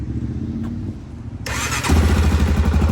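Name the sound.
Honda 400ex ATV engine starting cold with choke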